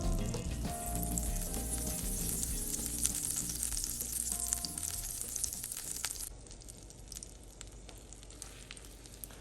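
Butter sizzles in a heated frying pan with a steady, close crackle and hiss that eases a little toward the end, with no talk over it.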